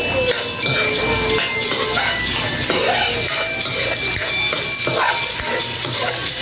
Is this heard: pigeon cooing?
no